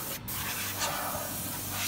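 Compressed air hose blowing dust out of a used clothes dryer during restoration, a loud continuous hissing rush close by with no talking.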